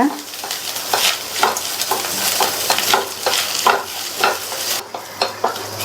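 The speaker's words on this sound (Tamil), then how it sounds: "அடுத்து 1/2 கப் அளவுக்கு தேங்காய் துருவலை சேர்த்து நல்லா வதக்கிக்கலாம்." Half a cup of grated coconut sautéed over medium heat in a pan, a steady sizzle with repeated scraping stirs at an even rhythm, close and fairly loud, no talking.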